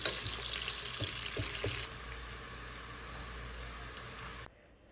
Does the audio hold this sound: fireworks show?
no